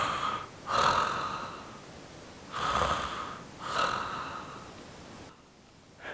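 A person imitates snoring through an open mouth, making three breathy, rasping snore-like sounds with pauses between them, close and fairly loud, with no talk.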